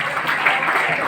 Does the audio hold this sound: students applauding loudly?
yes